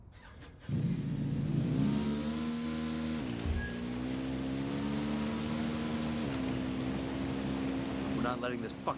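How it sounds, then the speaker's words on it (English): Engine noise from a vehicle in a Ghost Recon Wildlands video game session, a steady droning hum that rises and shifts in pitch as it runs, close and continuous for most of the stretch. "I'm hearing engine noise"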